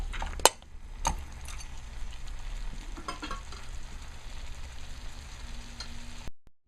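Duck curry fries in a pot with a steady, quiet sizzle throughout, broken by a few sharp metallic clicks near the start as the lid and utensils knock against it.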